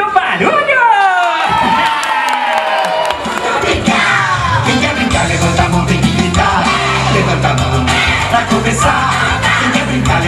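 Children at a kids' birthday party cheer, yell and shout together loudly and continuously, a dense crowd of young voices with whoops and screams, music or an adult voice faintly underneath.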